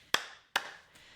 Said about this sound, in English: Give me a big clap right in front of your face.